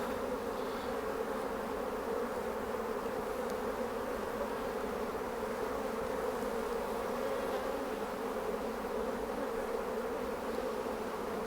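Honeybees drone steadily around an open hive as the frames are being inspected, a dense, continuous buzz that stays close and even throughout with no talking.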